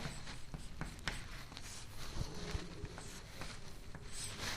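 Pen scratching steadily across paper while a maths induction solution is written out, a continuous close scribbling texture with small taps and strokes.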